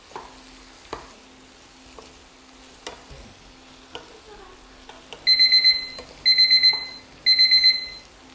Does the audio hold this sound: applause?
no